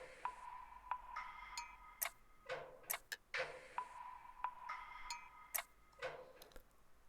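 A dry percussion loop with no effects plays crisp, tick-like clicks and short pitched pings in a repeating, evenly spaced pattern, fairly quiet and alone.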